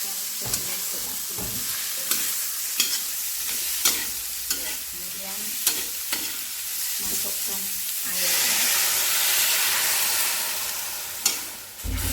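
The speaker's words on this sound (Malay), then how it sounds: "Oke, kita tumiskan ya bahan ini. Saya masukkan semua bahan ini." Continuous loud sizzling of ingredients for Chinese-style sweet and sour duck being stir-fried in a pan, with repeated scraping and clanking of a utensil throughout.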